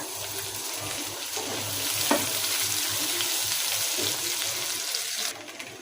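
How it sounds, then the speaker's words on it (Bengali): Onion hits hot oil with already-fried chopped ginger and garlic for a special chicken soup, giving a loud, steady close-up sizzle and crackle throughout with a brief stir. "এখন আমি এই পর্যায়ে কিছুটা পেঁয়াজ দিয়ে দিব।"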